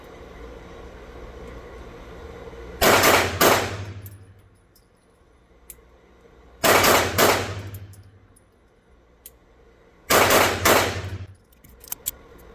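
Three loud, sharp bursts of gunfire from a Springfield Emissary pistol, spaced a few seconds apart, each a quick cluster of close shots (two to the chest, one to the head) ringing out, with quiet between volleys.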